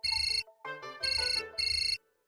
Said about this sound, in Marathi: फोन वाजतोय तुमचा.